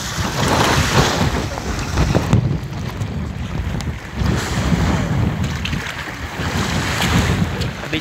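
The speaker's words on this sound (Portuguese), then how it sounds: "Tem muito vento, viu, hoje" Strong wind buffets a small fishing raft at sea, a loud continuous rushing roar with gusting microphone noise over the wash of waves against the hull.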